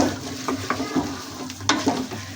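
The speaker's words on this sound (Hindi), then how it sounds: "इस स्टेज पे अपना डालेंगे कद्दू। इसको अच्छी तरह से भून लेंगे 1 से 2 मिनट।" Pumpkin stir-fries in masala in a pan, a soft sizzle broken by several quick scraping stirs of a spoon, close and fairly quiet.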